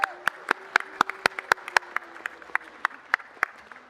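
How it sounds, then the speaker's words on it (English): Applause at a city council meeting for a championship-winning girls' high school basketball team: a few close, sharp individual claps in a loose rhythm, with voices and faint crowd sound beneath. "Please give them a huge round of applause."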